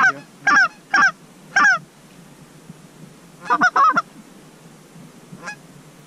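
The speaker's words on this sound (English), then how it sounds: "There's a bunch of geese coming." Canada geese honk in loud, close bursts, four quick calls followed by a pause and then a tighter cluster of honks, with a faint call trailing off afterward in quiet outdoor surroundings.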